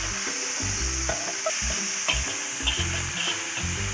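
Chicken and chopped garlic sizzle and fry in a wok, with a spoon stirring and scraping in steady rhythmic strokes over a constant close, loud hiss of hot oil; no one speaks.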